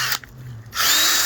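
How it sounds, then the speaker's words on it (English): Angle grinder fitted with a metal wire brush stripping rust from a 1967 Ford F100 during restoration, a loud steady whir that briefly drops away and then returns at full strength. "I am using this grinder"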